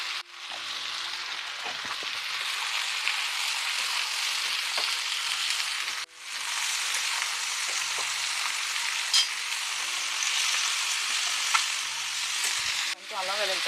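Mixed vegetables with green peas and mint sizzle in a pan for vegetable biryani, a loud continuous crackling fry that briefly drops out once midway and again near the end.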